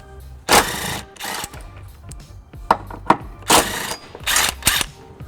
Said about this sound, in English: I've got a 14mm socket and I'm going to remove these 2 bolts.